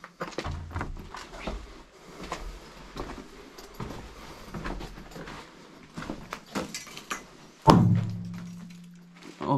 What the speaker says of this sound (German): Das war eine Lampe, auf die ich getreten bin.